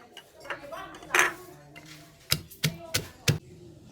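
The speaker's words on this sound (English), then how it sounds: "we pound the long beans, just lightly smash them" Long beans lightly pounded in a mortar for Thai papaya salad: several sharp wooden thuds at an irregular beat, close and clear, after a brief rattle of utensils.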